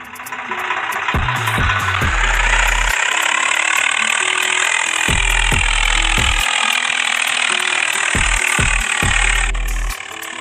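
Swaraj tractor engine in Farming Simulator 20, a sustained loud mechanical drone with rattling, ratchet-like clatter over low pulsing revs that rise and fall, steady throughout with no talk.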